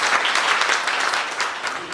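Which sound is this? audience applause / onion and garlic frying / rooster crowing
audience applause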